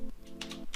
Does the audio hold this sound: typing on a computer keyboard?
yes